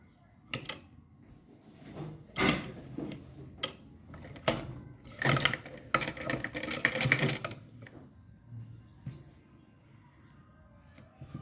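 Sewing machine stitching a blouse front, quiet bursts of rapid mechanical clatter starting and stopping irregularly, with soft handling noises between runs.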